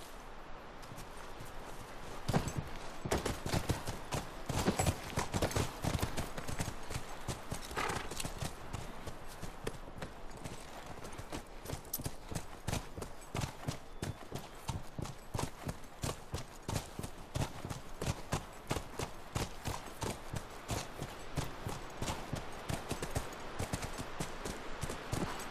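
Horse hooves in The Last of Us clip-clop in a fast, steady rhythm for a long stretch, staying close and dominant with a faint whinny now and then.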